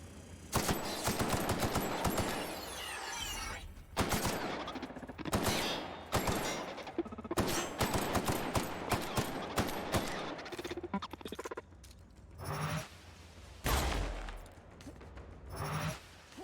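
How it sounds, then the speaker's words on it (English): A triple-burst acid gun fires repeatedly in The Outer Worlds, loud rapid clusters of sharp shots in quick succession with brief pauses between bursts, followed by a few scattered impacts. "it's a triple burst acid gun"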